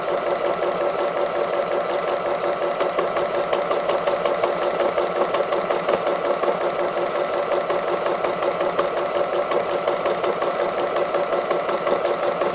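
A sewing machine running continuously for free motion embroidery, stitching back and forth lines of colour on a robin design, giving a steady fast mechanical hum and rapid needle rattle at an even pace, close and alone.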